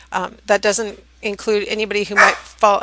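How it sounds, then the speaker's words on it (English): A pet dog barks in sharp bursts at close range, the yaps overlapping a person talking. "Sorry, that was my dog."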